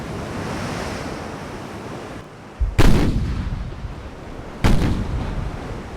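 Heavy cruiser guns firing at sea in the naval battle game Ultimate Admiral: Dreadnoughts, two loud booming blasts a couple of seconds apart over steady wave and wind noise, with no voices.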